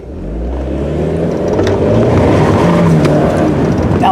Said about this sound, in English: you have that turbocharger. You can hear the whine, and it's pretty cool.